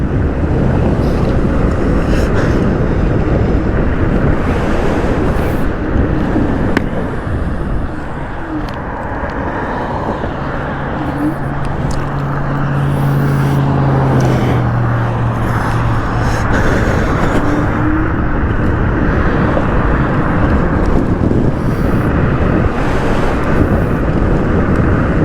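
Steady, loud wind roar buffets the microphone while riding a hyper scooter at about 65 km/h on a road, a continuous broadband rush with faint passing traffic tones underneath.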